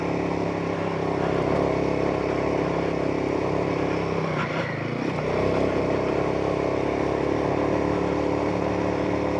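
Motorcycle engine chugging steadily in second gear up a steep section of a rough mountain track, a loud continuous close engine drone with a brief dip in the middle.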